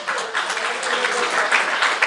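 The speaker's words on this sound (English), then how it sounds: "Give him a round of applause" An audience at a talk on the constitutions applauds a participant after a recitation, a brief, steady, fairly loud burst of clapping heard alone.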